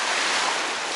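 Ocean waves at Siesta Key beach in Florida, a steady broadband wash of surf mixed with wind noise, continuous and fairly loud for a brief moment.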